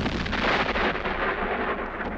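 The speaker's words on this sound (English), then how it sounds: "That bomb was way too close to that boy." A bomb explosion in the 1966 film The Good the Bad and the Ugly, a heavy, loud, rumbling blast that rolls on as a sustained roar across the whole moment, with no speech over it.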